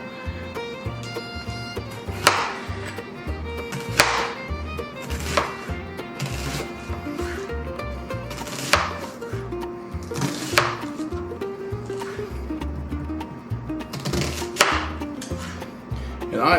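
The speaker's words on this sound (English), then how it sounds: "we're going to get to chopping some more onions" A knife chops big sweet onions on a board, sharp repeated close knocks at an uneven but steady pace, with a low hum running underneath and no talking.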